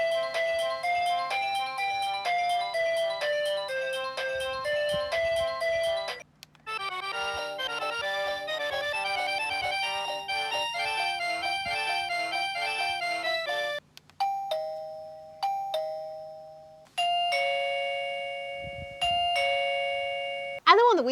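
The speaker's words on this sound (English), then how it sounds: "It comes with 4 ringtone options" An EUKI smart wireless video camera doorbell cycles through four electronic chime ringtones one after another, bright melodic tones played close and clear, each tune separated by short gaps.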